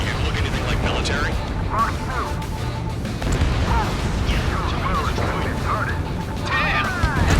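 Warships blowing up in the combat flight game Ace Combat 7, heavy booming blasts and crashing debris layered over a constant roar, with bursts of higher crackling, continuous and loud.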